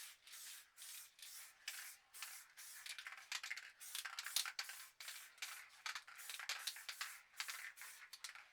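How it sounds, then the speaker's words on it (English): Black spray paint hissing from an aerosol can in short repeated bursts as it is sprayed lightly around a planet stencil on a sheet, close and steady in rhythm, with no talk. "we'll grab the black and then we'll just spray lightly round the planet stencil first"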